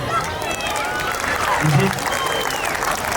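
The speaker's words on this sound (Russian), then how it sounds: "От вас требуется только красивый аплодисмент." A park audience claps in a brief burst at an evening outdoor event with fireworks, a loud, steady rattle of many hands lasting a few seconds, with a voice audible beneath it.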